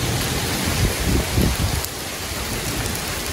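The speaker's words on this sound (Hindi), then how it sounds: "बारिश के साथ इतनी तेज़ हवा भी चल रही है, आज तो हो गई है तूफ़ानी बारिश" Heavy rain pours down steadily in a village storm, a dense hiss broken by gusty low rumbles of strong wind that ease off toward the end.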